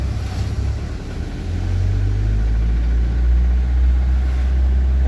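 A truck engine in a driving lesson picks up revs, its low rumble building after a second or so into a steady, louder drone that holds to the end, with no talking.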